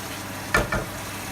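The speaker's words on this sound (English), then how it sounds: "let it cook, constantly keep stirring it" Meat for a cheesy pasta bake fries in a pan over raised heat, a soft steady sizzle broken by two quick scraping stirs close by.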